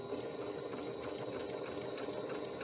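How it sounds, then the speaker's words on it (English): Home sewing machine stitching a bag, running steadily along a strip of cardstock guide with the presser foot, a continuous close whirring hum with faint rapid ticking and no voices. "And then I'm just going to start sewing"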